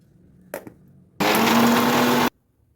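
A mixer grinder whirs through a brief burst grinding black pepper, turmeric, chilli powder and garlic cloves, a loud harsh roar lasting about a second after a short rattle of loading, then stopping abruptly.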